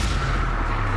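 A fire spell cast in the Hogwarts Legacy video game bursts out as a loud, dense, roaring blast that fills the whole second, with no voice over it.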